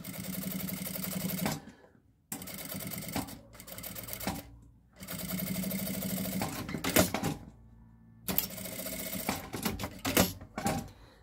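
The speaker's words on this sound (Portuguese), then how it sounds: "Agora, eu vou passar uma costurinha de meio pé de máquina pra fazer um detalhe aqui na aba." Sewing machine running a half-presser-foot line of stitching along a fabric flap for a sanitary pad holder, in several loud bursts with short pauses between runs.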